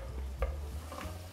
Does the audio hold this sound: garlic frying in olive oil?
yes